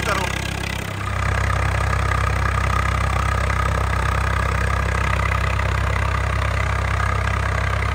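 A tractor engine idles loudly and steadily up close, a deep throbbing hum with a brief dip near the start before settling into a constant drone.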